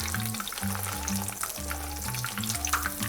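A thin pork cutlet fries in shallow oil at medium heat in a pan, giving a continuous close, bright sizzle and crackle with no talking.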